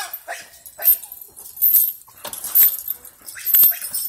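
A three-and-a-half-month-old puppy gives repeated high, sharp barks mixed with whimpering yips in bursts about a second apart, close and fairly loud against a quiet background.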